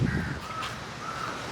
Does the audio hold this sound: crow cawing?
yes